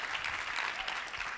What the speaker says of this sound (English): give your panel a round of applause